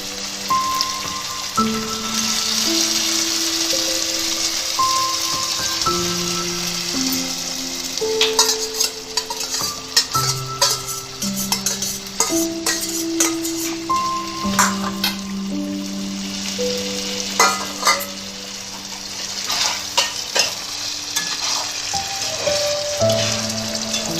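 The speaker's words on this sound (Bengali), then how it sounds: "এটা কষে গেছে, এবার আমি পনিরগুলো আস্তে আস্তে ছেড়ে দিচ্ছি।" Paneer cubes fry in hot oil in a cooked-down masala, giving a continuous sizzle with crackling pops and stirring scrapes, while a melodic music track plays throughout.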